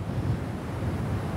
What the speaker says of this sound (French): une bourrasque